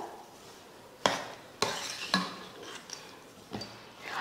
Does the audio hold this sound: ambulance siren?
no